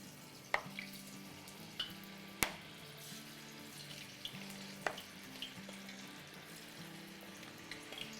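Battered cauliflower pakoras go into hot oil for gobi Manchurian, a steady soft sizzle broken by a few sharp clacks and taps as pieces are dropped in.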